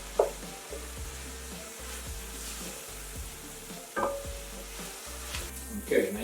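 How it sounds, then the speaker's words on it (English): Curry powder being stirred into onions in a frying pan, with soft scraping strokes and a steady low sizzle throughout, plus a few sharper clinks of the utensil against the pan. "just stir it around just to kind of soften it, let it start to work its way into the onions you got in there"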